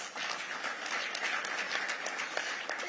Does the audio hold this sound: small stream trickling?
no